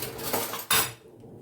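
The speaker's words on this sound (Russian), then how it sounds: "Сейчас я другую ложку возьму" Metal spoon lifted from a set of cutlery in a home kitchen while mixing mustard powder, flour and oil, giving a couple of close clinking scrapes with a sharper clatter midway, then fading.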